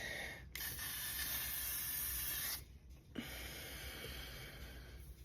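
An aerosol makeup setting mist sprays in one long steady hiss of about two seconds, close and loud, followed by a quieter breathy stretch.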